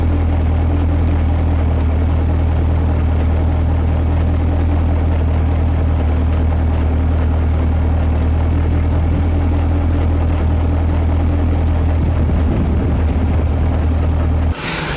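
A 6th-generation Camaro SS idles in neutral with a triple disc clutch, giving a steady, loud low engine drone and a faint mechanical rattle from the clutch stack that continues without a break.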